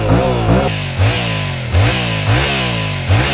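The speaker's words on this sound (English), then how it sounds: "I would say number four is that the stock exhaust on this bike sucks." Yamaha MT-07 2022 motorcycle on its stock exhaust, close and loud, revving repeatedly in short rhythmic bursts that rise and fall about once a second.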